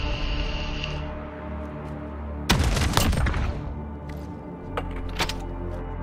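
Gunfire in the Modern Warfare video game: a sudden loud burst of shots around the middle, then scattered sharper cracks over a steady low rumbling game background.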